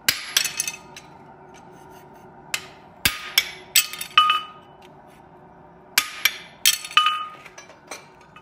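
Sharp metallic hammer strikes on a horseshoe held at an anvil, coming in irregular clusters of two to four ringing blows with short pauses between, close and clear.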